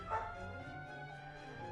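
Small dog yips and whimpers faintly in the background indoors, a brief soft bark near the start followed by low whining under a game's quiet tonal music.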